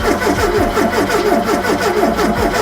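A Ford Capri with a reconditioned Pinto engine that won't start cranks over on the starter, a loud, close, rhythmic churning of repeated compression strokes without catching.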